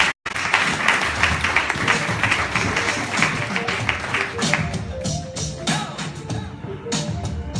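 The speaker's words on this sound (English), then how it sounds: "ladies and gentlemen, round of applause for Abdul." An audience at a young entrepreneurs' event breaks into sustained applause right after a brief silence, dense clapping holding steady before thinning slightly toward the end, with some voices and cheers mixed in.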